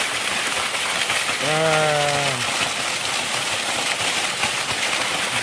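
A waterfall on a rainy mountain hike gives off a constant, loud, broadband roar. A person briefly exclaims partway through.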